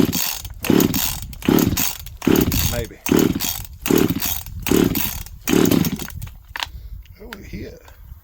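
Jonsred 2050 chainsaw being coaxed to run, close and loud, sputtering in repeated bursts about once a second before dying away, with a person briefly speaking.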